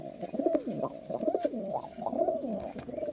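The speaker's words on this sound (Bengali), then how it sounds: "ভালো ভালো পায়রা সব" Pigeons in a loft coo continuously nearby, overlapping soft throaty rolling calls with a few wing or cage knocks, no voices.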